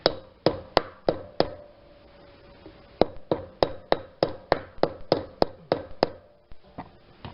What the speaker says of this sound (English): Once it's started, it should be much easier to hammer in.